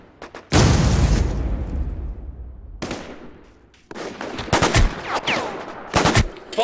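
A grenade blast in the war shooter War Inc Battlezone, a loud close boom with a long rumbling decay, followed by scattered gunshots and bursts of fire in a close-quarters battle.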